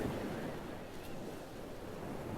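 Ocean surf washes onto a sandy beach as a steady, broad rush of waves, with some wind noise on the microphone and no voices.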